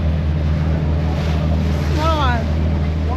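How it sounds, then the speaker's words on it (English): A steady low small-boat engine drone on the Bosphorus in Istanbul with wind noise, and a brief rising whistle-like sound partway through; faint voices may be present. "Small ship, boat."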